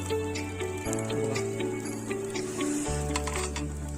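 Masala-coated fish pieces fry in hot oil, giving a steady, close sizzle that runs unbroken throughout with a low hum underneath.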